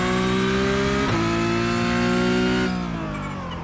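A Porsche 911 GT3 Cup (992) engine in iRacing holds a loud, steady high-revving drone, shifts once, keeps pulling, then eases off and fades near the end.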